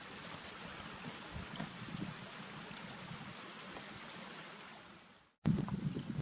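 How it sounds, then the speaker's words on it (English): A stream at a hiking-trail water crossing in Hewlett Gulch, Roosevelt National Forest, gives a steady rushing flow, fairly close and even, then cuts off abruptly before a louder burst of rushing. "We've made it to the first water crossing."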